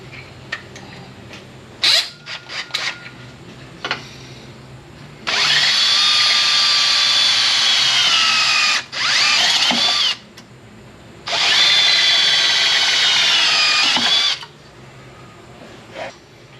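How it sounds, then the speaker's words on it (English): A power drill whirs loudly in two long bursts, each lasting a few seconds, with short clicks and handling noises before and between them, drilling holes into the rear seal of an NV3550 transmission from a 4x4. "I use a drill to drill a couple holes"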